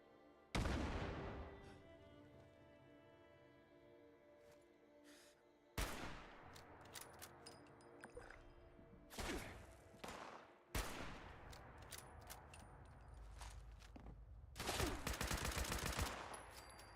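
Gunfire from the video game Fallout 76, several separate bursts of shots and booms spread across the stretch, loud and sharp against a quiet backdrop with lingering tones between them.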